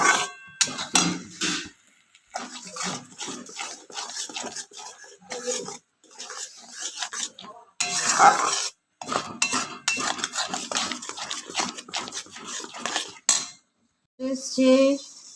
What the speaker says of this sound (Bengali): খুব ভালো করে নাড়াতে হবে যাতে পুরো কষে যায়